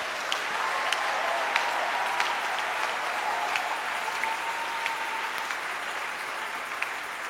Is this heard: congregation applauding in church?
yes